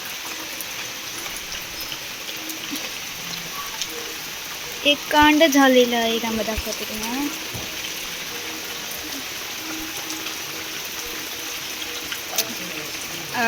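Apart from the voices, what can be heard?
heavy rain falling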